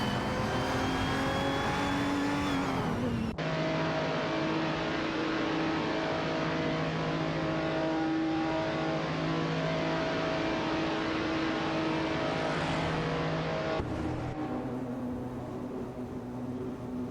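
Race cars in a video game racing sim roar down the straight, a loud, steady sustained engine drone with shifting harmonic tones, a pitch change near the end as another car sweeps past.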